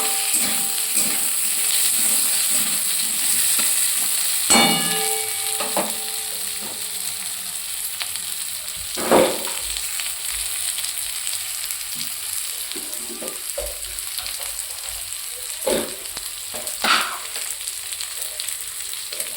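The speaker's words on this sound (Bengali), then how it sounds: "আলুটা ঠিক এর সাথে ফ্রাই করা হবে।" Potatoes frying in oil with fish in a pan, a steady soft sizzle and hiss with occasional scraping stirs and clinks of the utensil, close and fairly quiet.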